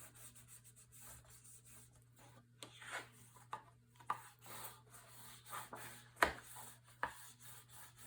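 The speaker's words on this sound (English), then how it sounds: "use my bone folder to burnish" Bone folder burnishing paper onto a craft page for a sunflower mini album, giving soft close scraping and rubbing strokes with a few sharper taps, over a faint steady hum and no talk.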